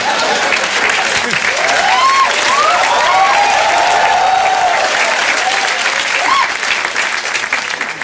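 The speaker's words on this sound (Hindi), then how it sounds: "इन तालियों से पता चलता है कि बहुत लोग इस कमरे में अनपेड इंटर्नशिप्स करते हैं" A stand-up comedy crowd in a packed room gives loud, sustained applause for a Bollywood-themed set, with scattered voices and whoops rising over the clapping throughout.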